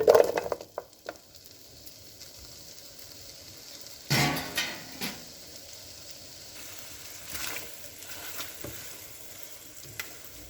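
Butter melting in a pan before paneer is fried, a soft low sizzle with a few louder knocks and scrapes of utensils against the pan.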